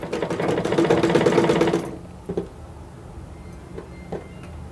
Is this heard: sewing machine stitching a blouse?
yes